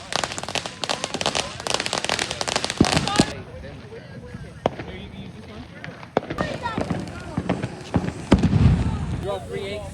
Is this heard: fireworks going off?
yes